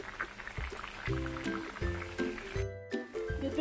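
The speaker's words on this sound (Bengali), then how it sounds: "মাছের ভাজার তেলটা দিয়ে দিচ্ছি কাঁচিয়ে।" Leftover oil from frying fish being scraped and poured into a pan of rohu fish curry with mango, giving a brief gurgling, liquid pour over background music.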